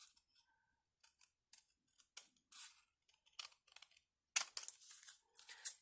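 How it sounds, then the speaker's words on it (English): Crisp snipping of scissors trimming excess paper for mini Polaroid frame embellishments, a series of short irregular cuts, close and fairly quiet, ending in a quicker run of snips. "I just take a pair of scissors"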